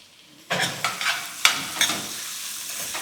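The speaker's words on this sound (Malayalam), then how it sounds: "ഇത് നല്ലപോലെ വഴറ്റിയെടുക്കാം" Onions sautéing in a pan while a Kerala-style masala is cooked, a soft sizzle under several scraping stirs of a spoon against the pan, close and moderately loud, with no one speaking.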